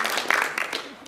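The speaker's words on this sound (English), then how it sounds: "Now you just have to clap very hard to congratulate yourself for doing so well." A lecture audience claps hard together, a dense, close wash of applause with quick uneven hand strikes over a second, some voices mixed in.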